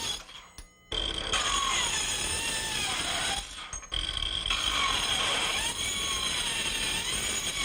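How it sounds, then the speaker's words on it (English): A Panasonic cordless metal saw cuts through conduit with a loud, steady high-pitched whine and grinding, run in two long passes separated by a brief pause. "Today I'd like to talk a little bit about the cordless metal saw."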